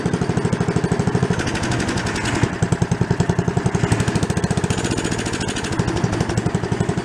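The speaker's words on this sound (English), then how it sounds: "Rev her up, see how she does." A small engine on an old log splitter, abandoned for ten years and running a little lean, revs with a fast, throbbing chug of rapid, evenly pulsing firing strokes, loud and close throughout with no one talking.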